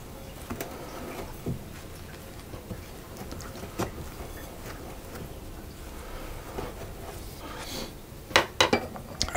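An egg is mixed into yogurt cookie dough in a bowl, giving soft irregular scrapes and light clinks of a utensil against the bowl, with a quick burst of louder knocks near the end.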